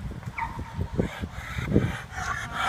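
A large, gentle dog makes short yips, whimpers and low woofs in uneven bursts, fairly close but moderately quiet, with no speech over it.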